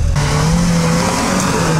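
A heavy 4x4 off-road vehicle drives during a winter off-road outing, its engine droning steadily with a tonal whine and rough tire noise, loud and close, with no talk.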